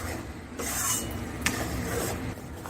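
Besan gram flour roasting in a pan is stirred with steady rasping scrapes, with a brief sharper knock midway, fairly faint and continuous.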